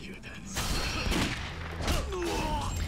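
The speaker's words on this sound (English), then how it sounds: "That's a fucking rifle sound effect" A shotgun in the video game Yakuza Kiwami 2 fires with a sharp rifle-like report, a loud blast over a dense, continuous game soundscape.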